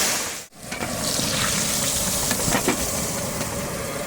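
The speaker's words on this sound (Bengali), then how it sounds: "এবার আমি মাছগুলো ভেজে নেব।" Fish pieces frying in oil in a kadai, a steady loud sizzle that runs continuously after a brief dip near the start, with no talk over it.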